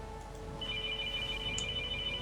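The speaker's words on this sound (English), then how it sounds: "Oh, you have a phone ringing." A phone rings during a League of Legends match broadcast, a faint electronic ringtone tone sitting steadily under low background sound.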